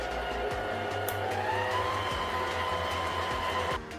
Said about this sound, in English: So now I transfer that to my bread mixer.